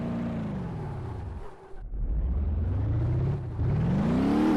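A car engine in BeamNG.drive hums and revs continuously while driving through a shipping yard with containers, pitch rising and falling, with a brief dip in loudness midway before climbing again.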